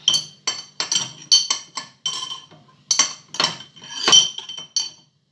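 A spoon stirring mayonnaise and oil in a bowl, with a quick series of bright clinks and scrapes against the bowl, loud and close, then silence at the end.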